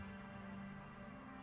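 Steady rain patters and hisses in the Cloudpunk video game setting, a soft continuous wash with a low hum underneath and no voices.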